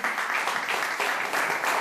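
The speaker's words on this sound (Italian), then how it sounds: "Un applauso per voi e" Applause from the audience at an Italian music show, a short burst of dense, lively clapping that stays loud and steady throughout, with no voices over it.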